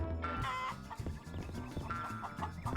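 Clucking fowl over busy game music, with a few short squawks rising above the steady rhythmic backing.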